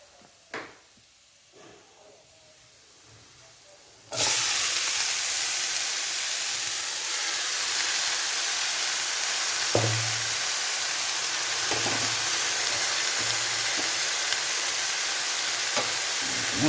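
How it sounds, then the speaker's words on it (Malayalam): Chopped ivy gourd (kovakka) drops into a hot pan, setting off a sudden loud, steady sizzle that continues with a few faint clinks of stirring after a quiet start. "ഇതിനകത്തേക്ക് നമുക്ക് നമ്മുടെ കോവയ്ക്ക് അരിഞ്ഞു വെച്ചിരിക്കുന്ന ഇടാം"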